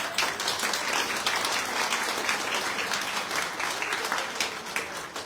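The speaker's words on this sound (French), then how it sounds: "Je vous demande d'ores et déjà de vous applaudir de votre présence" Steady, dense applause from a seated audience at a prefecture solidarity day event, many hands clapping evenly and fairly loud for about five seconds with no talking.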